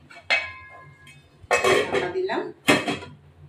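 A metal lid clanks onto a pot of hilsa steaming in mustard, giving a few sharp clinks and clatters close by, with a voice talking around them.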